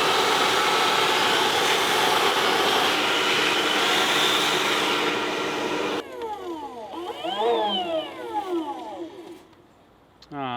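A failing blower roars with a loud, continuous whoosh for several seconds, then cuts to a quieter, sick-sounding run of rising and falling whistling whines.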